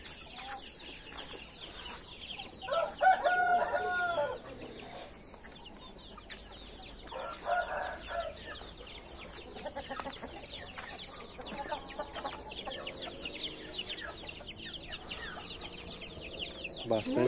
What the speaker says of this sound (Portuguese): Bastante galinha botando